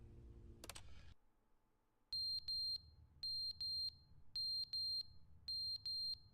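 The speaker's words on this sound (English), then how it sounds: "Why is the smoke alarm beeping?" Smoke alarm in the video game The Stanley Parable chirping in paired high electronic beeps, four evenly spaced double-beep bursts after a brief clatter and quiet pause, loud and clear over a low hum.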